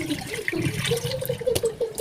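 Water runs steadily from a filtered kitchen tap while cooking chicken adobo, a close, continuous splashing stream with no talk over it.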